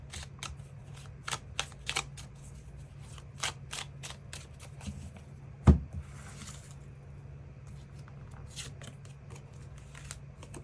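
Tarot cards being shuffled and drawn at a table, with quiet flicks and soft card slaps in scattered bursts and one sharper knock, faint over a low hum with long stretches of near silence.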